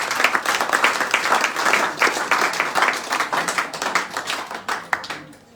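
A church congregation applauds during a thanksgiving service, steady dense clapping from many hands filling the room, with a few louder claps standing out before it fades at the end.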